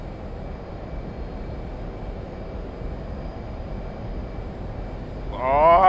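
An F/A-18C Hornet jet in DCS World gives off a steady, broad engine roar that holds constant and swells slightly louder at the end, with a short burst of speech right at the close.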